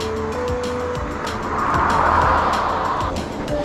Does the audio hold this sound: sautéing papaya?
no